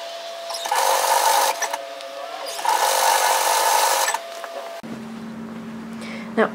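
A sewing machine stitches a shacket seam in two steady bursts of close mechanical whirring separated by a brief pause, then stops and gives way to quieter room sound.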